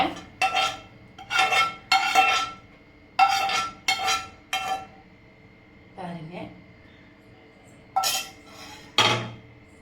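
Green gram paniyaram batter being stirred in a bowl, with bursts of clinking utensil-on-bowl scraping in short irregular strokes, close and fairly loud, separated by brief pauses.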